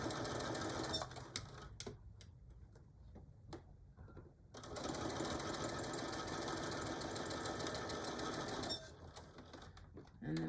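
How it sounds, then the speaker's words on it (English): Sewing machine stitching a fabric tool carry bag, a steady fast mechanical whir running long stretches with brief pauses and restarts, close and fairly loud. "we're not sewing over the zipper at all"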